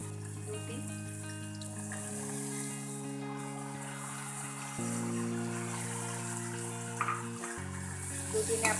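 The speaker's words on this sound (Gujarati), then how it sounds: "દૂધીને આપણે કાપીને ધોઈ લેવાની છે" Tap water runs steadily over cut bottle gourd being washed for lauki chana dal, a soft even splashing stream with a few small clatters near the end, no voices.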